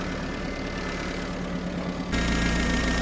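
A UAZ 31512 engine runs at raised idle revs in a steady, close, loud drone, growing slightly louder and fuller partway through.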